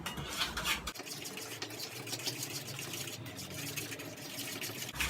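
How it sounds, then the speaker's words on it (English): Egg being stirred into sugar and butter in a mixing bowl while making banana blondies, a steady wet scraping and clinking of utensil against bowl continuing throughout without speech. "you will stir for actually about a couple of minutes until you form a single consistency"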